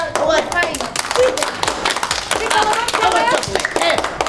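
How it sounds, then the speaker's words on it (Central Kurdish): Children clap in quick, uneven bursts at close range during a children's competition, with young voices talking and shouting over the clapping. "لەم چەپڵە چەپڵە چەپڵە"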